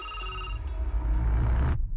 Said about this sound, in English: That is, until the phone rings.